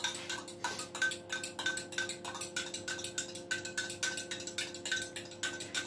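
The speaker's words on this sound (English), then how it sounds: "So I'm just going to add my eggs to my milk. I'll just give that a little whisk around." Eggs whisked into milk in a bowl, a quick, steady run of light ticking clinks from the whisk, close by and with no talking.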